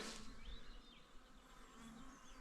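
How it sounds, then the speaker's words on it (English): Many bees swarm around beehives outdoors, a dense continuous buzzing with wavering pitches drifting close and away, no voices. "There's so many bees. Someone definitely comes around here because there's beehives"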